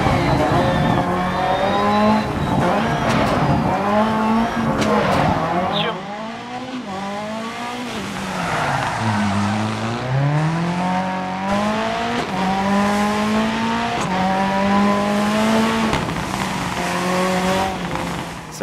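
A rally car in the Dirt Rally video game revs hard, its engine note climbing and falling through gear changes, with tire squeal and gravel noise, loud and continuous throughout.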